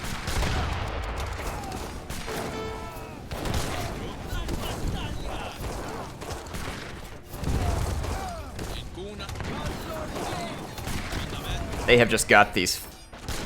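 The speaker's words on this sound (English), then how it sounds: "fire cannons everywhere, and they are just absolutely brutally effective against infantry" Massed fire cannons in Age of Empires III blast infantry in a battle, a dense barrage of booming shots and crackling gunfire rolling on continuously, with someone talking excitedly over it.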